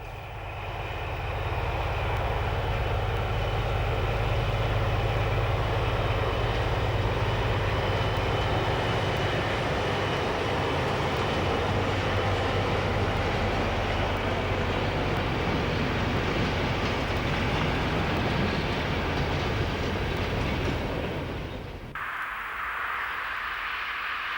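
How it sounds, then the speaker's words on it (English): A Class 215 diesel locomotive pulls its train away toward Nijmegen along the Rhine, a loud, sustained engine roar that holds steady for over twenty seconds before cutting off abruptly to a quieter tone. "the Class 215 diesel is on its way to Nijmegen in Holland once more"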